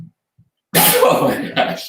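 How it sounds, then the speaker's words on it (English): A sudden, loud, close sneeze bursts out after a moment of near silence. A person reacts with speech immediately afterward. "Tried so hard not to sneeze."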